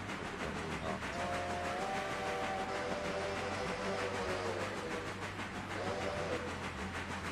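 Polar Express locomotive whistle in a video game, a steady steam-whistle chord blowing for several seconds, dipping briefly, then sounding again in a shorter blast over a constant low rumble of the train.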